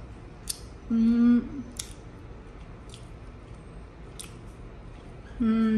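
Close, wet chewing of a chicken curry meal with soft squishy bites and clicks, broken by a couple of low hums or murmurs from the eater.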